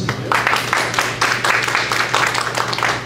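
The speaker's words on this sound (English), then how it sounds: "that's a good, nice round of applause" An audience at a public meeting gives a round of applause, a loud, dense patter of many hands clapping steadily for a few seconds, close and continuous, with a low steady hum underneath.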